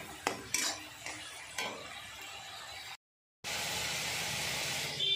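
Turmeric and salt being stirred into a pan of spices for a bhetki fish masala: a few close metal scrapes and clinks of a spoon, then a brief gap followed by a steady hiss.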